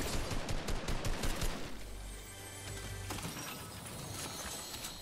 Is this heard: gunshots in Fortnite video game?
yes